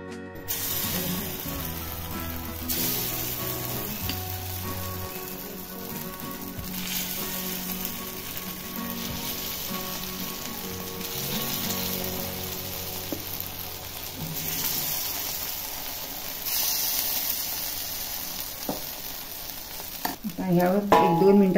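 Oil heating in a hot appe pan for green moong appe, a steady soft sizzle with faint intermittent scraping and clinking, a louder clatter near the end; no talk.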